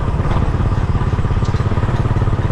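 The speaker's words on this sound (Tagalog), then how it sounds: "Naglolo ko yung motor ko." A motorcycle engine struggling and losing power, running close and loud with a rough, uneven chugging pulse and crackle, alone without talk.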